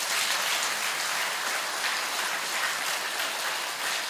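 A crowd gathered at a spiritual guru's public session claps together in a steady, fairly distant wash of applause with no letup and no talking over it.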